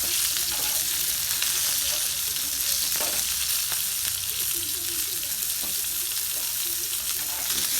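Green chillies sputter and fry in hot oil for village-style mirchi thecha, a loud, close, dense sizzle with frequent sharp crackles and pops running steadily throughout, with no talking.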